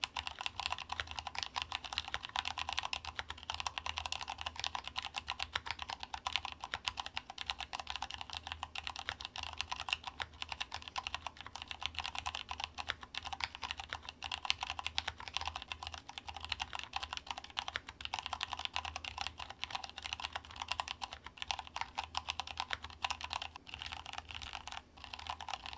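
Steady, dense typing on a Cherry MX 3.1 mechanical keyboard fitted with brown switches, soft muted key clacks running continuously at close range with no speech.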